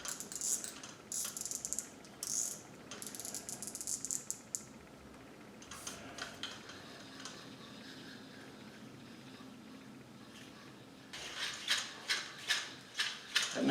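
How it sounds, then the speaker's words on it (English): A fishing reel spools line off the end of a rod with the drag tightened, giving quiet ratcheting clicks in bursts and pauses that speed up into quicker rhythmic clicking near the end. "then we just start reeling like normal. Make sure you tighten the drag."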